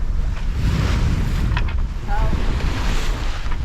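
A sailboat under a full genoa and a double-reefed mainsail moves across open Pacific swells at about five knots, with a constant rush of wind and water and a few faint creaks.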